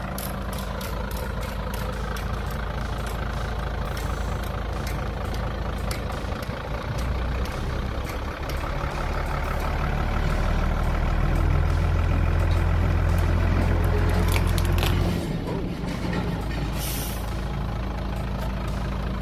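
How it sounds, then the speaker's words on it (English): A truck rolls over a 3D-printed glass-fiber polypropylene part in the street, its heavy diesel engine idling and rumbling loudly up close, swelling midway with an air-brake hiss, with no voices. "get them to run it over with a truck"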